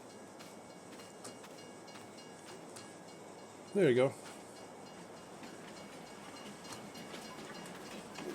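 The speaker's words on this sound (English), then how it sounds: "train's coming." A train passes in the farming game Farming Simulator 22. A steady rumble runs throughout, with one short, loud horn-like blast near the middle and a few brief spoken words.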